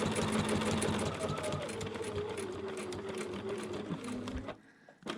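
A sewing machine stitches a quilt block in a steady fast whirring run, close and clear, slowing and stopping near the end while a voice speaks over it.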